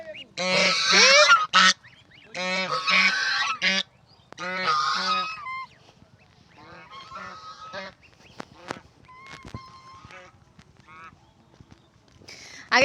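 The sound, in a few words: domestic geese honking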